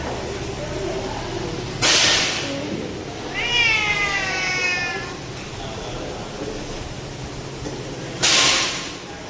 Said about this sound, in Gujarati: બિલાડી પડી ગઈ.